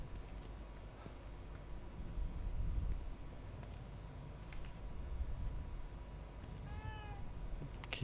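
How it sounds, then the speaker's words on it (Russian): A cat meows once, a short clear call near the end, inside the horror video game The Evil Within 2, heard faintly over quiet ambient game sound. "Кошка?"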